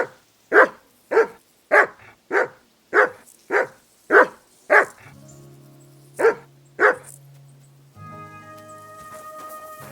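A dog named Mutt in Kingdom Come Deliverance 2 barks in a quick, steady run of about ten loud, close woofs, then drops into a low hum and a short game tone after two final barks.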